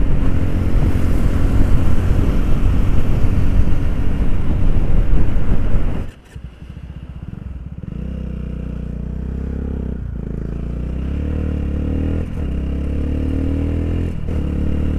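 Motorcycles in a road drag race roar loudly with rough revving for about six seconds, then the noise drops abruptly to a lower, steadier engine drone that lingers and fades at a distance.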